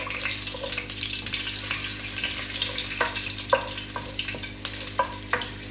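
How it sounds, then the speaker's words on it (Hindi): Whole spices sautéing in hot oil for chicken karahi give a continuous close sizzle, punctuated by sharp clinks and scrapes of stirring. "खड़ा मसाला, और इसको हम हल्का सा सौते करेंगे"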